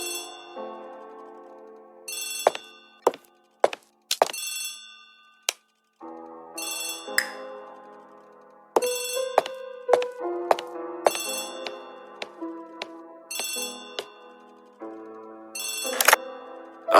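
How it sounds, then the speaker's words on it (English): An old-style telephone rings in a radio drama, loud repeated bell bursts separated by short gaps, with occasional sharp ticks and knocks in between and no talking over it. "Poirot, the telephone."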